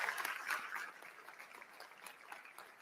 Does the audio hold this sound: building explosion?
no